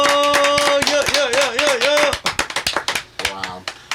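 A small group claps in quick, uneven bursts, with a few people cheering and talking over it, the clapping thinning to scattered claps near the end.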